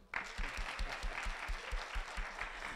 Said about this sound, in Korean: 모든 준비를 하신 모든 분들께 이제 감사의 박수를 한번